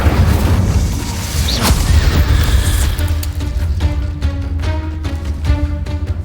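The Incendio fire spell in a Harry Potter video game roars out as a loud, dense whooshing blast, then settles into crackling flame layered with repeating rhythmic magical pulses.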